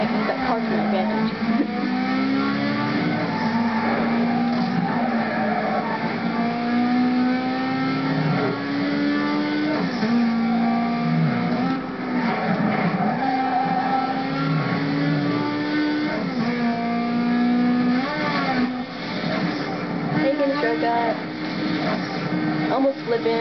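A racing car engine from the Need for Speed video game revs continuously and loudly, pitch rising and falling with gear changes, while a player talks over it throughout.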